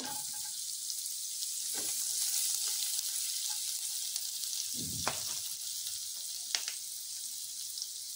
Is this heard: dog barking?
no